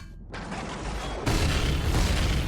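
Explosions booming in the space survival game Empyrion Galactic Survival: a deep thud followed by a loud, sustained rumbling roar that swells sharply partway through, with no talking.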